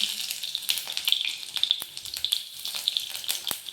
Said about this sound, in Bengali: এই তেলের মধ্যেই আমি ফোড়নটা দিয়ে নেব